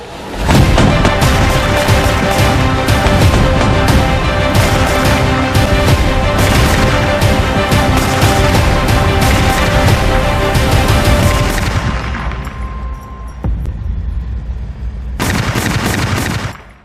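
A 30 mm automatic cannon on the NMS turret fires a long, loud continuous burst of rapid heavy shots, then falls quiet briefly before a short final burst.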